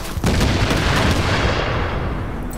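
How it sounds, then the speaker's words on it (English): Grenade explosions in a shooter video game, a loud, dense wall of booming blasts and gunfire-like crackle that fills the whole moment, close and sustained with no talking. "Somebody throwing grenades."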